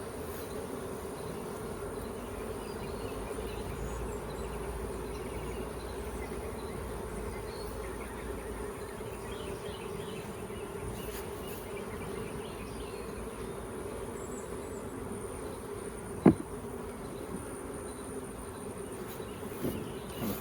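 A honeybee swarm hums around a flowerpot swarm trap. The buzzing is faint and continuous, with one sharp knock partway through.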